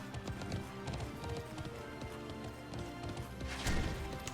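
Horse hooves clip-clopping in the online horse-riding game Alicia Online, a steady run of quick hoof taps mixed with dense game sound effects and a brief louder crash near the end.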